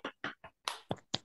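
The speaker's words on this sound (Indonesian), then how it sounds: "Anak Ibu semua tepuk semangat untuk kita semuanya" Children in a classroom clap out a rhythmic cheer, six crisp close claps in a patterned beat, three evenly spaced and then a quicker group of three, with no talking.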